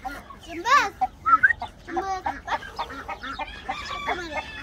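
White Indian hen and chicks in a guinea fowl coop, with a rooster crowing and hens clucking close by in several bursts, mixed with faint children's voices in the background.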